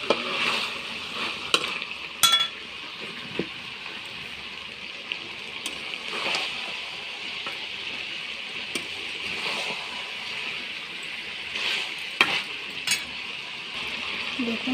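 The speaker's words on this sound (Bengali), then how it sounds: "মাংসটা আমার ভালো করে কষানো হয়ে গেছে, কড়াইতে লেগে আসছে" Country chicken meat sautéing in a kadai, with a steady soft sizzle and scattered scraping clicks from stirring throughout, no talking.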